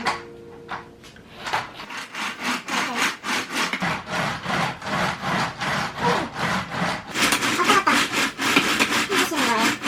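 Loud, rhythmic rubbing and clacking strokes from a foldable exercise stepper machine repeat steadily, about two per second; no talking.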